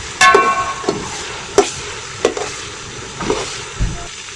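Masala roasts in a pan for aloo pulao, soft sizzling beneath a series of sharp, evenly spaced spatula taps against the metal, close and fairly loud, with no talking.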